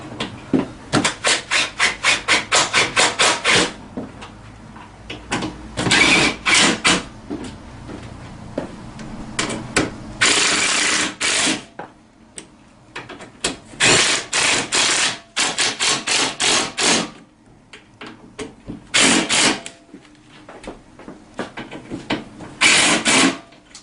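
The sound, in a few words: ratchet tightening bolts on a Tao Tao CY50D scooter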